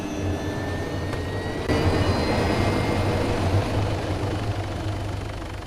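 A helicopter flies nearby, its engine and rotor giving a loud, steady whine and throb that swells slightly midway and carries on throughout with no talk.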